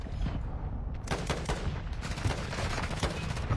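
Mortar strikes in a video game land as a rapid string of sharp booming blasts and crackling impacts, dense and loud throughout with no pauses.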